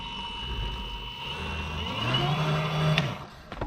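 Beta Kinder 12-inch youth electric bike motor under throttle on a full battery, a steady close whine that rises in pitch as it speeds up, then drops off near the end.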